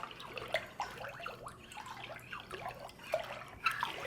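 A mixture of water, glycerine, dishwashing soap and rinse agent being stirred in a container: soft, irregular liquid sloshes and small splashes that come in uneven pulses, fairly quiet and close, with no voices.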